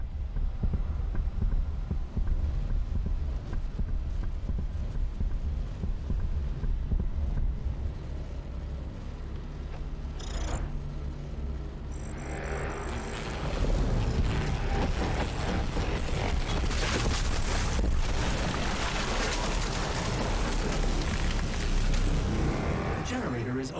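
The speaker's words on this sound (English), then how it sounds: "The generator is now at full power." A generator in Doom Eternal hums at full power, a steady low throbbing drone that swells louder and busier halfway through, with game effects layered over it.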